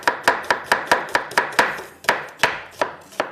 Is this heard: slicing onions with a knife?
yes